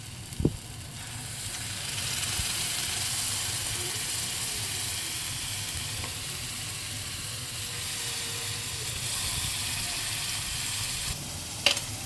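Coconut ground in a mixer, added to crab masala in a hot pan, sizzles in a loud, continuous hiss that swells and settles, with a sharp clink near the start and another at the end.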